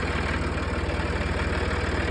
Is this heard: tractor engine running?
yes